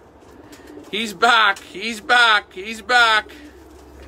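Racing pigeons coo in a loft while birds return from an 80-mile sprint race: several soft, rhythmic cooing phrases repeat close by, with a voice speaking in between.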